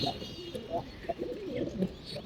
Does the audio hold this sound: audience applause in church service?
no